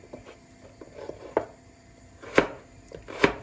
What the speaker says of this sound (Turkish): Önce havucumu doğrayacağım.